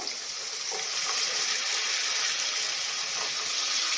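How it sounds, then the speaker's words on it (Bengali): Water pours steadily into a cooking pan of fried spices for a bean and peanut curry, a continuous close splashing gush with no talking. "এবার জল দিয়ে দেব।"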